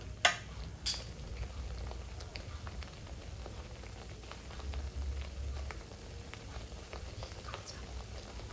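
Chicken pieces cooking in a pan without oil give a faint, soft bubbling and sizzling, with a couple of sharp clicks near the start.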